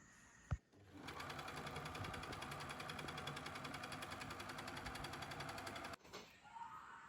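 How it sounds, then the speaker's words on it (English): An overlocker runs in one continuous, close, whirring stitch for about five seconds while serging the edge of fabric for a Christmas stocking, preceded and followed by brief handling clicks. "I might run the overlocker just around that side"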